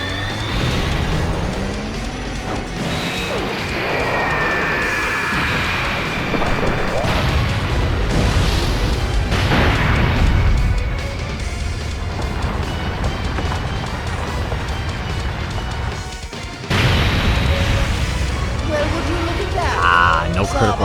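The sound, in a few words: explosions from an active skill in Dragon Ball game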